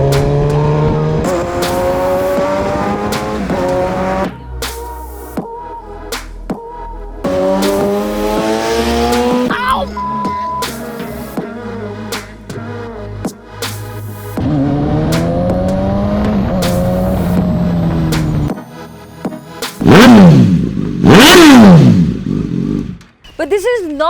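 A Suzuki GSX S1000 1000cc stunt motorcycle engine revs hard and loud in repeated rising bursts with gear changes and sharp drops, a tire squeal near the end, with talking over it.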